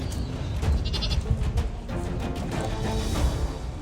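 Several goats in a moving flock bleat in quick succession, short wavering cries layered over one another at close to mid distance, set against a rustling outdoor background.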